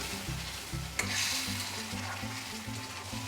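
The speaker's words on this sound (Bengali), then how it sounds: "ঢাকনা সরিয়ে আমরা সামান্য কষে নিই" Chicken pieces are sautéed and stirred uncovered in a pan, a soft sizzle running under repeated scraping strokes of a spatula, with one sharper clink near the start; fairly quiet and close, no talking.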